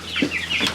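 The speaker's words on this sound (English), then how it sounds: "I think this is another rooster." A rooster with a big red comb, on a homestead, gives a few quick, close clucks in a short burst, loud and clear.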